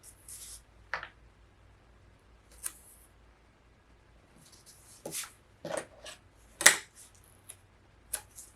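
Scissors snip the corners off paper for a mini album craft project, with several short, crisp cuts spaced irregularly in a quiet room, close by and without talk.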